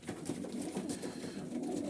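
Domestic pigeons coo in low, rolling, throaty calls close by, several birds overlapping in a steady murmur.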